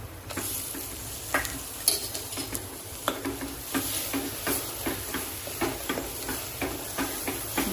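Masala paste is stirred into hot oil for a spicy Konkani chicken curry, giving a continuous close sizzle broken by regular scraping strokes of a spoon in the pan.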